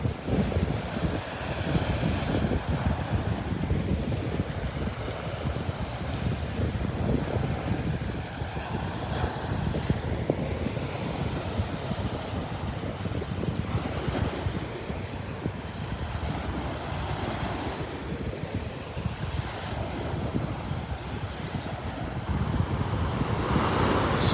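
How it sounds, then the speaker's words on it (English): Ocean waves washing steadily onto a beach in North Naples, Florida, a continuous roaring surf mixed with heavy wind buffeting the microphone throughout, with no voices. "Just the sound of the waves and the smell, the salty air."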